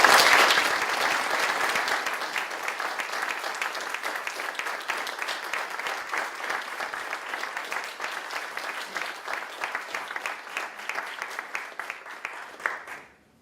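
An audience at the 2013 Carnegie Prize in Mind and Brain Sciences applauds the prize winner in a dense, sustained burst of clapping that slowly thins and fades out after about thirteen seconds.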